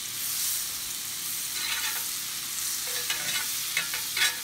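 Butter and peanut oil frothing in a hot skillet before wild pheasant backs go in, a steady close sizzle with crackling pops that grow busier toward the end.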